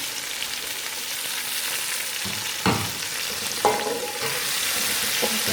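Tomatoes with green and red chili fry in a pan with a steady sizzle, broken by two sharp stirring scrapes mid-way and a softer one near the end; nobody speaks.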